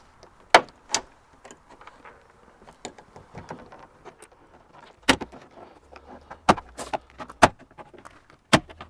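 A door panel is prised off a Suzuki Jimny, giving a series of sharp, close plastic clip pops and snaps spaced irregularly, with quiet handling rustles between them.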